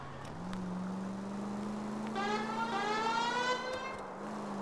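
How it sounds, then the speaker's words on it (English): Police car siren in L.A. Noire Remastered, a wailing tone rising and falling with a steady engine hum beneath, brief and fairly faint. "I just got the siren."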